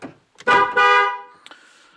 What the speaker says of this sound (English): you heard two horn chirps, a short horn chirp and a long horn chirp